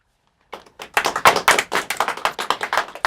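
A small studio audience breaks into applause late after a moment of silence, with close, distinct handclaps from a few people that keep a loose, uneven rhythm and have no talk over them.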